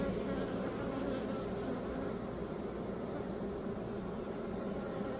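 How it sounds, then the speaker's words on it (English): Honey bees buzz inside a beehive full of newly hatching young bees, a dense steady drone that holds close and even for the whole stretch. "A lot of baby bees in here, man."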